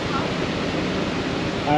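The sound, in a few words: water gushing from canal lock gate paddle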